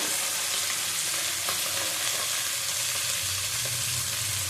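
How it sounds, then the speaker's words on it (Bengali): Bhetki fish bones fry with chili powder in a pan, a dense, loud, unbroken sizzle with stirring scrapes throughout, close up and without any talk. "এক চামচ দিলাম কাশ্মীরি লঙ্কার গুঁড়ো সাত চামচ দিলাম ভালো করে আবার ভেজে নেব"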